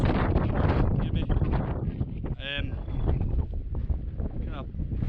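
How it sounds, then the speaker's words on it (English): Strong wind on a hill ridge in the Campsie Fells, around 578 metres up, buffets and roars loudly and continuously across the microphone, with gusty swells throughout. "The wind's picked up a bit"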